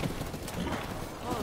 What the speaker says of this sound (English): My horse keeps running!